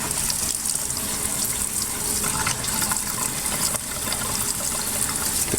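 Cleaning fluid pours into a parts washer tank as it is topped off, making a continuous, close splashing gush that stays steady and loud throughout with no talking.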